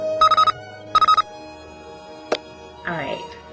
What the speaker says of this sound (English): And let's change this to a beep.